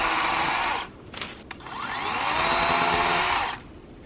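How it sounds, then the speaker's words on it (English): Small electric chainsaw cutting through small trees in woodland, a steady loud motor whine with a brief dip around the first second, then sustained cutting before it drops off near the end. "I like these small electric chainsaws because they are quiet and very effective for this kind of work"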